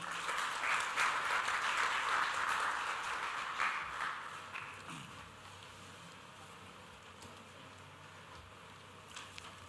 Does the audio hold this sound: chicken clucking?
no